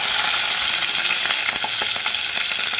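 Ginger garlic paste frying in a pan for mint biryani, a steady loud sizzle with soft scraping stirs running through it, close and continuous without talk.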